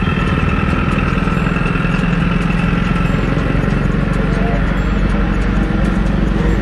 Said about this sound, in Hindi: NS160 में क्या जहर एग्जॉस्ट लगा है सच में